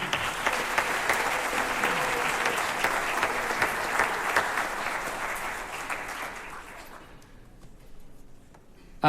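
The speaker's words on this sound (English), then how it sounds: "Again, round of applause for them." Audience applause follows a jazz band tune at a holiday concert. It is a dense, sustained clapping crowd that fills the room and fades out toward the end.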